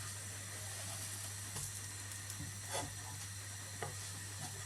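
A pancake cooking in a pan gives off a soft, low sizzle under a steady background hum, with a few faint clicks of the pan or spatula.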